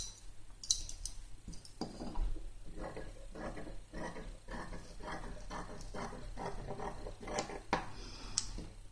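Scissors snipping through doubled fabric, a close series of sharp, rhythmic cuts with short crisp clicks between them.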